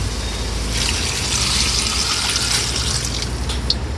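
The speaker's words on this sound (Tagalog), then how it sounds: "Tapos ngayon, maglalagay tayo ng tubig." Water pours steadily into a cooking pot of shrimp sinigang with string beans and green chili, a continuous close splashing trickle lasting several seconds with no talk over it.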